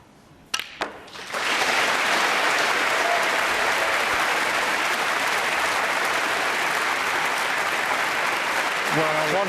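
Audience applause at the 2015 Masters snooker quarter-final as a century break is completed, a dense, loud clapping that rises after a couple of sharp knocks and holds steady to the end.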